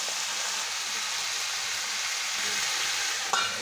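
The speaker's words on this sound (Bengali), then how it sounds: "এখন আমি একটু নাড়াচাড়া করে শাকগুলো দিয়ে দেবো এর মধ্যে" Vegetables with turmeric and salt stirred in a kadai, a steady, close sizzling hiss with soft scraping, broken by a brief clink near the end; no voices.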